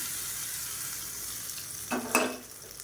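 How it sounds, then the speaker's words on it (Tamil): Mustard seeds, curry leaves, dried chillies and asafoetida are tempered in hot oil for tomato chutney, giving a steady crackling sizzle with a couple of louder sputtering pops near the end. "கடுகு, கருவேப்பிலை, வரமிளகா, பெருங்காயம் போட்டு தாளிச்சு"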